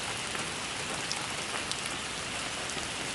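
Steady rain falls in a dense, even patter, with fine drops hitting a surface close by. It stays constant throughout, with no voices and no thunder.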